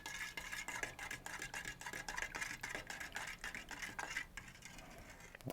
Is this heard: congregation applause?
no